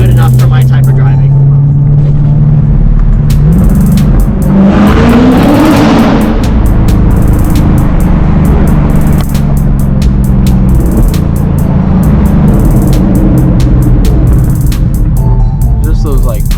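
A Corvette C8's exhaust rumbles with low burbles and a rising rev, loud and close throughout, while people talk over the engine.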